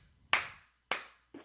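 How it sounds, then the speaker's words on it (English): Three slow, loud hand claps spaced well apart with a short silence between each, the third coming in quicker and lighter as the clip ends. "I have to do a slow clap."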